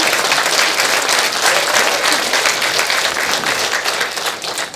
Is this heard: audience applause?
yes